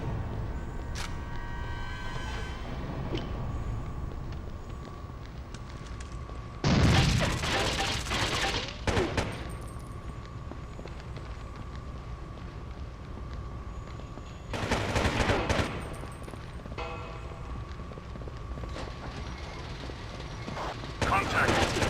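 Rainbow Six 3 tactical shooter gunfire on PS2, with two loud bursts of rapid automatic shots amid mechanical game sounds and scattered single clicks, plus radio-style voices talking between the bursts.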